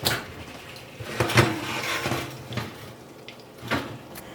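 A kitchen oven door opening, with soft clunks, knocks and rattles of metal and dishes spread across a few seconds and moderately close.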